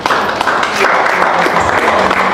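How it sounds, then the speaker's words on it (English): Audience at a Port Harcourt seminar clapping steadily to welcome the Eze of Omudiagu, a dense, even wash of applause with faint chatter underneath. "please, ladies and gentlemen, with a resounding clap"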